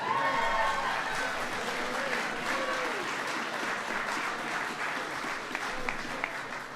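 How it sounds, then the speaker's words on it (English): Sustained applause and cheering from an audience honoring a college basketball walk-on at a national champions' visit to Washington, D.C., steady and fairly loud, with some voices mixed in throughout. "Yeah, go ahead and give Tim a big round of applause."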